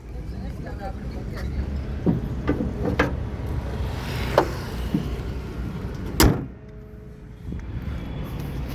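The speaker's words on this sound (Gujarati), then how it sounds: "પાછળ સેન્ટરમાં તમને લેચ મળી જશે. અહીંયાથી બૂટ ઓપન થઈ જશે." The boot of a 2016 Hyundai Creta 1.6 E+ petrol SUV is opened with the rear latch, giving a few distinct clicks and thuds, the loudest near the end, while someone talks in between.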